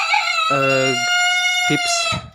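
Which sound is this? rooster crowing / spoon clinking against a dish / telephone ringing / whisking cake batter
rooster crowing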